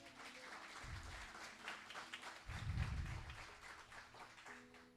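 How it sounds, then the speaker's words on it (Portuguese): A church congregation claps and applauds faintly at a distance, with the sound swelling in two brief waves over a low, steady room murmur. "Glória a Deus, aplaude o nome do Senhor"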